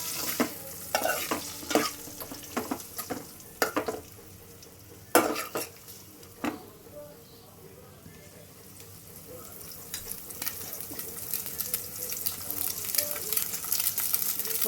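Food stirred and frying in a pan in a home kitchen, a soft continuous sizzle broken by sharp scrapes and clinks of a spoon against the pan, louder bursts near the start and the sizzle rising toward the end.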